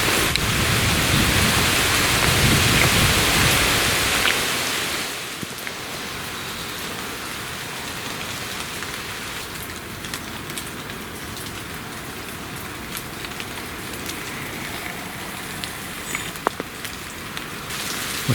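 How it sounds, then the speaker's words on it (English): Persistent rain during a wet early morning outdoors while deer stalking in the countryside, heavy and close at first, then easing into a softer, steady patter with occasional drips, no talk. "it doesn't look like this rain's going to subside anytime soon"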